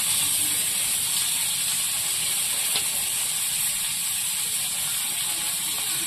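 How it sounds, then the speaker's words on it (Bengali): Prawns fry with salt and turmeric in a hot pan, giving a steady, even hiss of sizzling oil that stays constant throughout, close and unbroken, with no talk. "লবণ আর হলুদ দিয়ে চিংড়ি মাছটা একটু ভেজে নেবো।"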